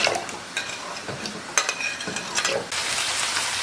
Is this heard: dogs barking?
no